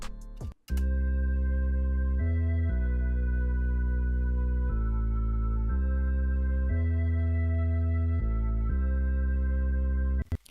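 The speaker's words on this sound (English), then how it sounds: "I added a purity sub, sounds like this with the flute." Deep sub bass notes hold and change in steps under a thin airy flute line in a dark trap beat, playing alone with no voices.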